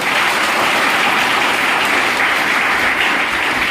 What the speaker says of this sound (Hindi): ताली तो बनना चाहिए